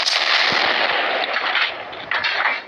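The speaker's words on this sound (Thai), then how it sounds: "ระเบิดอีกเป็นหนึ่งคัน" A loud burst of blast noise with a hissing, crackling tail, like a vehicle exploding in a game, fading over a couple of seconds.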